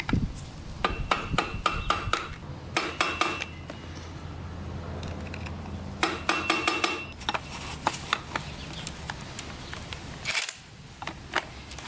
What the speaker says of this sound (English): We gotta pound down that washer right there.